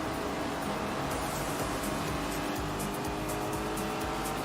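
Lamborghini Urus engine in The Grand Tour racing game, a steady loud roar with dense broadband noise and a faint high tire hiss, running continuously throughout with no talking.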